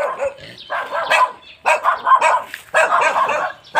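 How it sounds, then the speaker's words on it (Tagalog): A dog barks in several short bursts with brief pauses between them, fairly close and moderately loud, with no talking. "Kulit ng aso."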